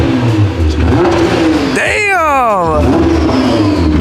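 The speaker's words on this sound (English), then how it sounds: "actually sounds way more beefy than my car" Tuned sports car engine revving hard as it pulls up beside a BMW M4 GTS, a loud rising then falling roar of a few seconds over steady engine rumble, with a person exclaiming briefly.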